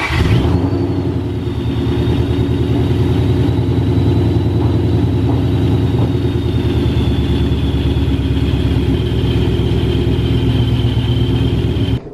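A 2005-09 Ford Mustang idles steadily and close, a constant low rumble with a faint high whine above it, holding an even level throughout with no talk.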